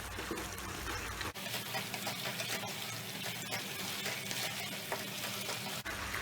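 Chicken fries in a kadhai over a high gas flame, producing a dense, steady sizzle with a sudden surge in intensity early on, heard close.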